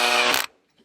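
A power screwdriver on a low torque setting gives a short, loud whirring burst as it drives a screw into the plastic board of a Gene Cafe coffee roaster, then stops abruptly.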